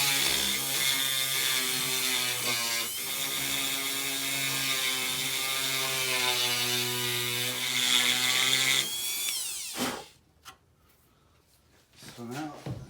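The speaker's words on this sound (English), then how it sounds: "I'm gonna take my Dremel with a diamond tip blade on it. We're gonna start scraping." A Dremel fitted with a diamond tip blade scrapes paint off a metal mount on a 2019 Polaris Ranger XP1000, making a steady, close, whining grind for about nine seconds before cutting off, followed by a few scattered knocks.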